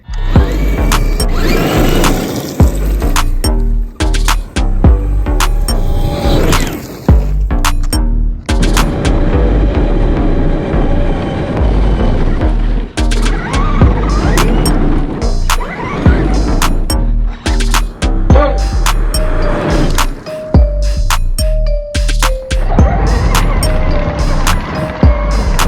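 A powerful RC truck on normal tires plows through deep grass, its electric motor whining and surging in bursts amid rattling, clattering mechanical noise, close and loud throughout.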